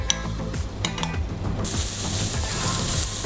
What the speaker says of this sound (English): Put the guanciale in a pan and roast it.